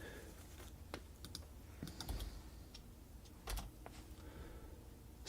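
Computer keyboard being typed on, scattered quiet key clicks and taps at an irregular pace, faint and close against a low background hum.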